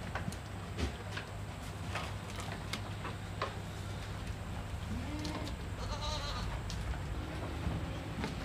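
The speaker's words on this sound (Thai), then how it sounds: "เก็บภาพบรรยากาศในช่วงเย็นที่ให้อาหารแพะมาฝากคุณผู้ชมนะครับ" Saanen dairy goats at an evening feeding on a farm, with scattered bleats rising over a steady low hum and rustling barn noise, the calls moderately distant and overlapping.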